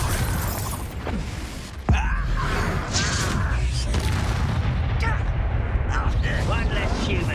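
A Confringo explosive spell blast in the Hogwarts Legacy video game hits with one sharp, loud boom, followed by rumbling combat noise and magical effects, with voices in the mix.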